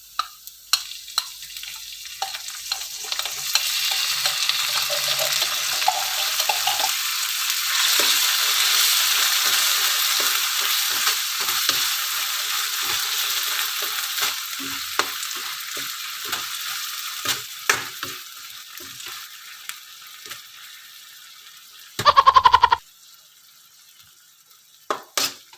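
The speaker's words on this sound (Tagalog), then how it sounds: "Pag medyo luto na ang sibuyas, susunod ko na ang corned beef." Corned beef frying with onions in a pan gives a loud, continuous sizzle that gradually fades and thins, with occasional scrapes of a utensil and a short sharp clatter near the end, no voices.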